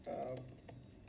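Computer keyboard typing a terminal command, with a quick cluster of close, soft key clicks in a brief run.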